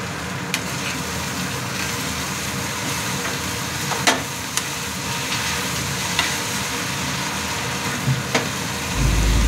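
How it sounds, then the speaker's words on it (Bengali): Maggi noodles and spices fry in a pan, giving a steady close sizzle with sharp scraping clicks as they are stirred, and a louder clatter at the end. "ভালো করে ম্যাগি এবং মশলাগুলিকে ভাজা করে নেব।"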